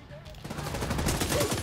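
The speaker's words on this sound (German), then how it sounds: "Ich schieße 33 Mal auf ihn" Rapid bursts of gunfire in Tom Clancy's The Division 2 rattle in a dense volley, fairly loud after a brief quieter start.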